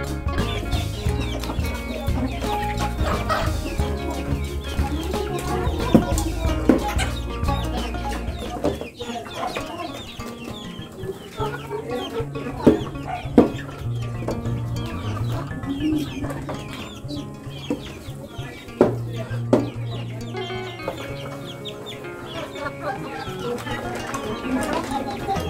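Chickens cluck and call at feeding time as they are given cheap, nutritious feed made from banana trunk, with varied clucks and scattered calls layered over constant background noise that thins out after the first few seconds.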